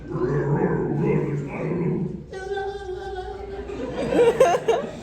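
A man voicing a crowd scene imitates a dog with his voice, giving short yips and barks that turn into chuckling and laughter amid panel chatter.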